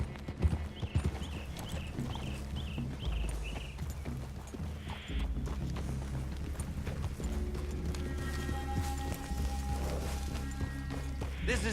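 Horse hooves clip-clop steadily in Red Dead Redemption 2, with a brief whinny, walking over ground beneath a low ambient rumble and faint background game sounds.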